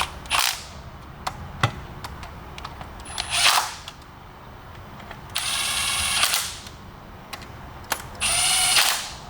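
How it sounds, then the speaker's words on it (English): Torque wrench ratcheting down valve cover bolts on a 2006 Dodge Cummins: several short bursts of close, dry ratchet clicking separated by pauses, with one sharp click in between. "going to set up a torque wrench and we'll torque that spec"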